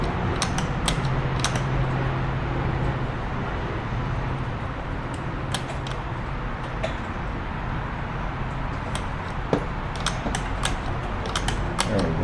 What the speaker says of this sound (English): We'll just work that back and forth a little bit to get some oil into that mechanism.